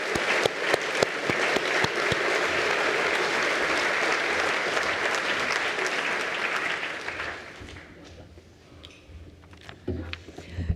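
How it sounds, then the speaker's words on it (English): Audience applause at an evening leadership awards ceremony, a dense sustained burst of clapping from a large crowd that tapers off after about seven seconds into scattered claps and room noise. "we should give a big round of applause to our fearless leader, Laurie, for her amazing leadership of CED."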